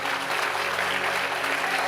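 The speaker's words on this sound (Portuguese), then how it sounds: "Você pode aplaudir a Ele em nome de Jesus." A church congregation applauds during a Sunday worship service, a steady wash of many hands clapping together, loud and close, with no speech over it.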